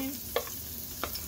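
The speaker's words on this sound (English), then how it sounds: "The garlic goes in." Chopped garlic frying in a pan for a breakfast dish, a faint steady sizzle broken by a couple of sharp stirring clicks, with no talking.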